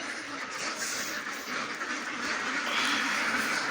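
A dense chorus of ducks quacking together in a pen, constant overlapping calls that swell slightly louder toward the end.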